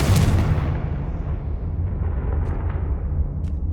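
Confringo fire spell exploding in Hogwarts Legacy, a loud booming blast at the start followed by a long rumbling roar that slowly dies away, with no talk.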